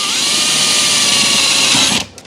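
A power drill boring a roughly 5.2 mm hole up through an aluminium awning extrusion whines loud and close at a steady pitch, then cuts off abruptly near the end, leaving brief small clicks.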